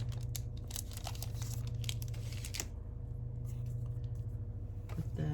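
Paper rustles and crinkles close by as a stack is handled and fed into a home photo printer, soft tearing-like scrapes in short bursts over a low steady hum, then quieter.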